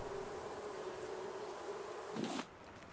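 Bees buzz around a honeycomb on an island in the survival game Raft, a steady insect drone holding close and even before cutting off abruptly near the end.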